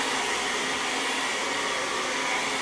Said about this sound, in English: So when you blow dry and you go in your child's hair